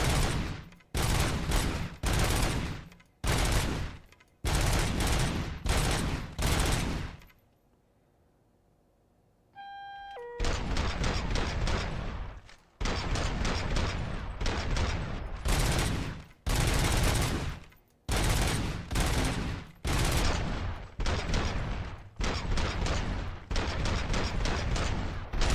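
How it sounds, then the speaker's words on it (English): Long sustained bursts of automatic gunfire from the endless gun in a RoboCop video game, loud and relentless, broken by a quiet gap with a short rising electronic tone before the shooting resumes. "auto reload and an infinite gun."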